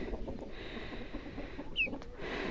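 Small chicks carried outdoors in a bucket on a village farm give faint, quiet cheeps over soft handling noise, with one brief, clearer peep standing out.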